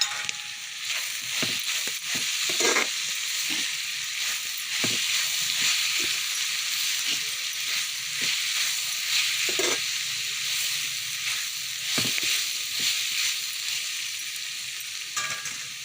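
Cumin and fennel seeds frying in a pan, giving a continuous close sizzle and hiss with scattered spoon taps and scrapes as they are stirred.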